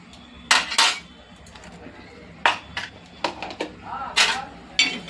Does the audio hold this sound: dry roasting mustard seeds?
yes